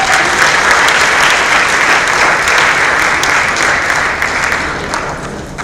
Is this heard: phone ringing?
no